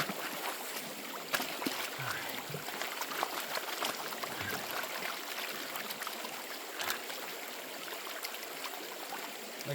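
Gentle, not-too-swift stream water flows steadily over rocks where gold panning takes place, a continuous broadband rush with small splashes and no speech.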